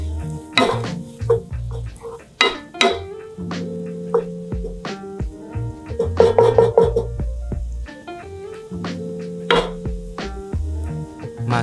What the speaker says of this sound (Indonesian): Bila butter dah cukup mendidih, masukkan bawang putih yang telah kita cincang tadi.